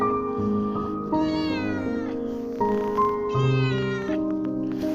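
A stray cat meows repeatedly in drawn-out, tonal calls, several in a row with short gaps, close to the microphone and loud.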